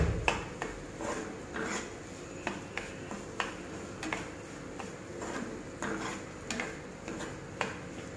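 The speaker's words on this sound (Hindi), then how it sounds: "सूजी को अच्छी तरह से भुनेंगे" Half a bowl of semolina (sooji) is stirred and roasted in a pan over a low flame for halwa, giving steady scraping with soft spoon ticks and clicks at a regular, unhurried pace.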